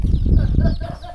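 A chicken clucks up close in a Ta Oi hill-village in rural southern Laos, a brief, loud burst of throaty clucking that lasts just over a second.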